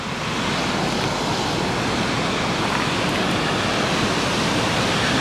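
Sea waves at Geroskipou Beach near Paphos, Cyprus, roll in a steady, loud broadband wash of surf that runs unbroken throughout, close by, with no voices.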